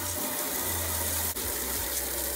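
Garden hose spraying water while cleaning a pet water station, giving a steady close hiss with a low rumble, broken by one brief dip midway.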